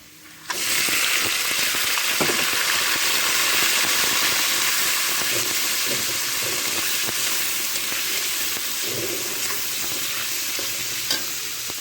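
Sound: crabs frying in oil with onion, garlic, chilli

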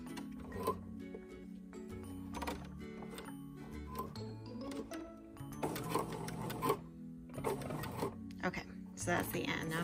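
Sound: sewing machine backstitching fabric

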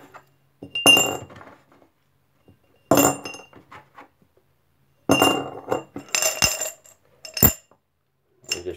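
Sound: coins tossed into a glass bowl

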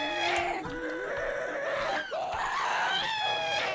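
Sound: ghast noise in Minecraft video game

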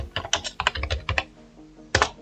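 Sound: typing on computer keyboard into browser search bar

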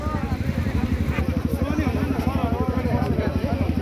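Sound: motorcycles in a slow bike race

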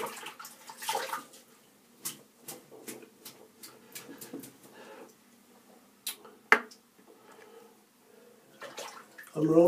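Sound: rinsing a badger shaving brush under running water

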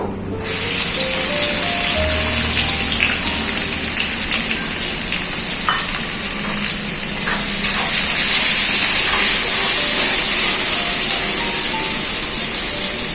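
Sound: two chopped onions frying in oil

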